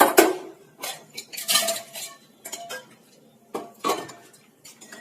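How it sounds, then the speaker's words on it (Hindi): A pan is set on the stove with a series of separate metallic clanks and clatters, sharp and close, with short quiet gaps between the bursts. "हम रखेंगे एक पैन"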